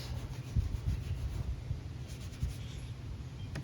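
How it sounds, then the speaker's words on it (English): A scuff pad is rubbed over a Kia car door panel, making soft, close, rhythmic abrasive scrubbing strokes at low volume. "Grab our scuff pad. Kind of scuff those up real nice and neat like this."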